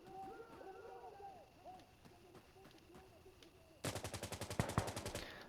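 An M60 machine gun lays down suppressive fire at a farmhouse: a loud, rapid burst of evenly spaced shots that starts abruptly late in the clip and holds steady to the end, with birdsong and faint voices before it.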